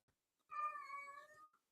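A house cat gives one drawn-out, tonal meow that edges toward a yowl. It is faint and somewhat distant, lasts about a second, and is heard alone in a quiet room.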